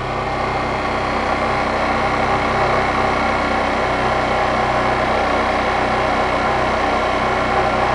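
A Honda CG 125 Fan motorcycle engine runs close by at a raised, steady speed during an electrical charging test, a continuous buzzing drone with no pauses.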